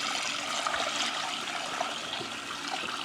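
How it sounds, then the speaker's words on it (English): Rice being washed in water for Thai pad kra pao, a continuous splashing and trickling swirl close by, steady and moderately loud with no speech. "wash this rice."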